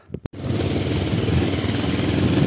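A motorcycle ridden along a hill road: a short stutter, then a steady close engine drone that holds through to the end.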